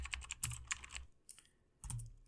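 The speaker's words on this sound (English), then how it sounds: "So let me start by typing" Computer keyboard typing while writing LaTeX code in Overleaf: quick bursts of close, crisp key clicks, a pause near the middle, then another burst of keystrokes.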